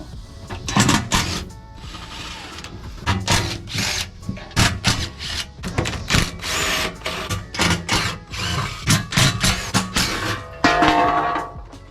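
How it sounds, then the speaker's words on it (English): Power tools whir and rattle in short, repeated bursts with brief pauses between them as a skid plate is removed from a Jeep Wrangler during a winch install, close and fairly loud. "So I think first I'll have to remove this skid plate."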